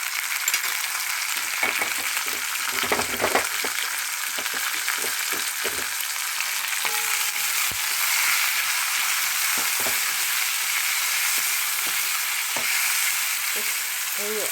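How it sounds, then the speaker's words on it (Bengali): Vegetables sizzle steadily in a pan of oil for flattened-rice pulao (chirer polao), with potato, cauliflower, salt and turmeric, then carrots, beans and onion; a continuous close fry hiss runs throughout, broken by occasional stirring clinks and scrapes. "গাজর বিনস আর পেঁয়াজটা দিয়ে দেবো একটু ভাজা হোক"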